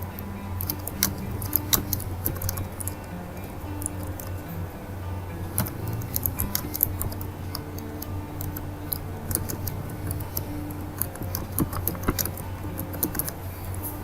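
Rapid, light clicking of a computer keyboard as a message is typed, with irregular close tapping keystrokes over a quiet low hum.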